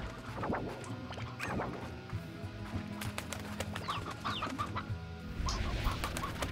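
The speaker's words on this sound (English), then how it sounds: "I hear more chickies." Hens cluck repeatedly in the Slime Rancher video game, several short clucks and squawks scattered over a steady low game hum, fairly close and clear.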